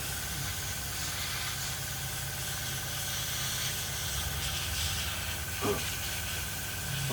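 Steady hiss of an airbrush or spray can laying a paint coat on Revell 1/32 Messerschmitt Bf110 C-2 model kit parts, a constant close airy wash with a faint thump near the end.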